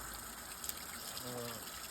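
Water splashing down into a frozen koi fish pond in bitter cold, a steady broadband rush close by with a faint mechanical hum beneath it.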